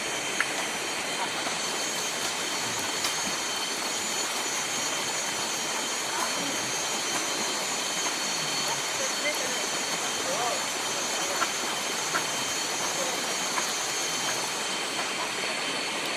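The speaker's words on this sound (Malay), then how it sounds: "Oh, cantik air terjun guys. Air terjun Sebeloy, cantik guys." Waterfall at Air Terjun Sebeloy in Ulu Sebauh, a steady broadband rush of falling water filling the whole clip without pause, close and constant, with faint voices now and then beneath it.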